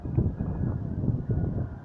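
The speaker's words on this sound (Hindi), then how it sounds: "थोड़ी तेज़ हवा है यार" Gusty storm wind in Lahore rumbles low against the microphone in uneven pulses, a muffled buffeting that rises and falls over a couple of seconds.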